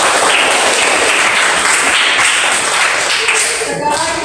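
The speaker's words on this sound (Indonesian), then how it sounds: "beri tepuk tangan untuk kita semua" A school class claps together, a loud, dense burst of many hands that holds steady and then trails off into a few last claps.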